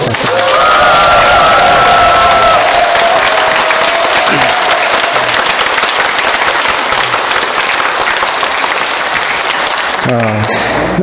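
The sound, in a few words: church congregation applauding the choir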